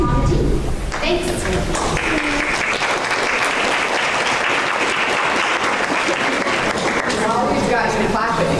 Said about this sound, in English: While we've got you clapping